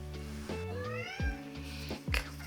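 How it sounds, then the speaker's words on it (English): A cat meowing in a studio, several clear, close meows with rising and falling pitch over a steady background hum. "If y'all hear the kitty cat,"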